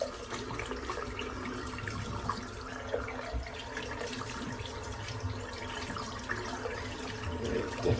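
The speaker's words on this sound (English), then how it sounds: "Just going to give that a good rinse out now" Tap water runs steadily as a lathered shaving brush is rinsed out under it, a soft continuous splashing hiss with small irregular spatters, fairly quiet and without talk.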